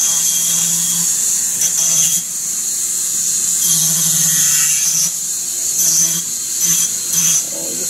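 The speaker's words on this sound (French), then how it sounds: "on va utiliser des petits rotatifs et simplement" Small rotary tool grinding down a protruding metal edge so a bolt can fit, a steady high-pitched whine that rises in short bursts as the bit bites, close and loud throughout.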